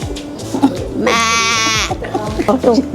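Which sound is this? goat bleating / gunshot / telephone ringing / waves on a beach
goat bleating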